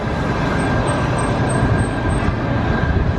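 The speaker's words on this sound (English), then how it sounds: "And there it goes. The Las Vegas Monorail." The Las Vegas Monorail train runs past with a steady, even rumble and rail hum, fairly close and unbroken throughout, with no talking.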